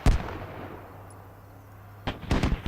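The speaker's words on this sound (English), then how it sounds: "now he can hear the gunfire" Gunfire in a competitive squad-based video game match, a sharp close shot at the start, then a quiet gap before a burst of several rapid reports near the end.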